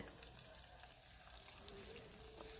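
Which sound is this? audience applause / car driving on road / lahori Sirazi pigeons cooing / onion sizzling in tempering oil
onion sizzling in tempering oil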